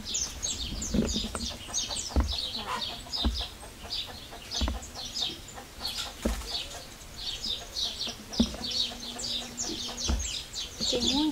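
Chickens cluck and chatter nearby on a small farm amid birdsong and occasional wing flaps, with faint rustling and bumps in the background.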